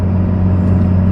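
Mitsubishi Eclipse 2G engine held at around 3000 RPM, a steady, loud, close low rumble with no variation in pitch.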